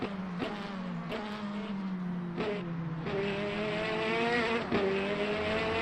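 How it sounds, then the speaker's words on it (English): Race car engines scream past in a video game of Le Mans Ultimate at Imola, heard from outside the car, with rising and falling revs and several sharp gear shifts, moderately loud with no speech. "I like the sound of this car from the outside, but not from the cockpit."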